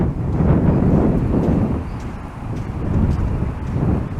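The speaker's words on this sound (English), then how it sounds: "just the sound of the wind." Wind sweeps across a sandy beach near a pier, a continuous low blustery roar over the microphone that rises and falls in gusts, with nothing else clearly heard.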